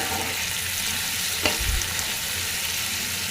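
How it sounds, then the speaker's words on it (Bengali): Beetroot, cabbage, turnip and shrimp curry frying in a pan, a steady close sizzle throughout with a brief scrape of stirring midway and no talk. "এটাকে কিন্তু আমার ভালোভাবে ভাজা হয়ে গেছে আর এর ভিতরে কিন্তু আমি পানি দিইনি"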